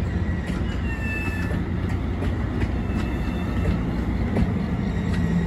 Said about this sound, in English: This train is just starting, and he'll head to Martinsburg, I guess.